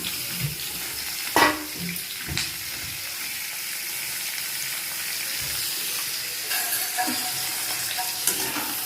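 Sliced potatoes and thick lengthwise-cut onions frying and sizzling in a pan, stirred with scrapes and clinks over a steady hiss, close and fairly quiet, with no talking.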